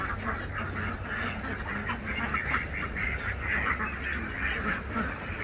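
A flock of farm-raised ducks quacks continuously in a dense, overlapping chorus, close and steady throughout.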